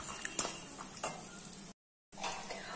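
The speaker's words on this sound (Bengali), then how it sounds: "তো বাদামটাও একটু বেশ ভালো করে ভেজে নেব।" Nuts fry in a pan with a soft, close sizzle and a few light stirring ticks. The sound drops out briefly in the middle, then the quiet frying resumes.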